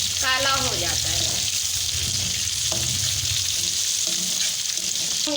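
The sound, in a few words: cumin seeds sizzling in hot oil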